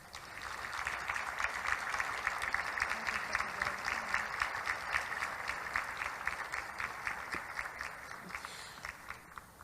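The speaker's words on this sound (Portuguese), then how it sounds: "Eu gostaria de pedir para vocês uma salva de palmas para a nossa presidente, dona Cida Vilas Boas." Steady, moderately distant applause from an audience honoring the president, Cida Vilas Boas, a continuous patter of many hands lasting nearly ten seconds.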